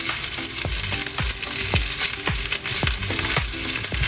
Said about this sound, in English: And that sizzling's good.